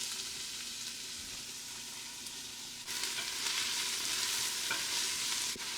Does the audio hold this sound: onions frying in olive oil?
yes